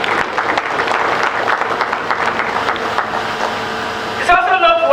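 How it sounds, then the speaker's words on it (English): An audience at a university convocation ceremony claps in a sustained, dense roar of applause filling a large hall, easing near the end as a voice resumes. "we need to clap for them really for that"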